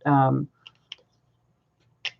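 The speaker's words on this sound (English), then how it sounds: "you close them and snap them back together" After a brief vocal sound, a few small sharp clicks ring out alone, spaced apart, like scissor blades snapping shut.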